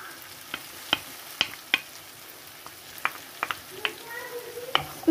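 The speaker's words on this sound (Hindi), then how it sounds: "अब मैं दही इसमें ऐड कर दूंगी।" Yogurt being mixed into a pan for dahi baingan: light spoon clicks and taps against the pan at irregular intervals over a soft background sizzle.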